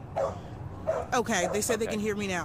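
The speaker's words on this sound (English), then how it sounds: "we hear a dog barking" A neighborhood dog barks and yips near a police shooting scene, several quick barks and whimpers heard clearly beneath a person talking.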